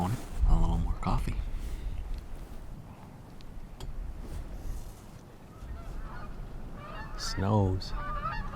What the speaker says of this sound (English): Bunch of snow geese. I don't know if you can see them. That's what that is. Thought it sounded funny.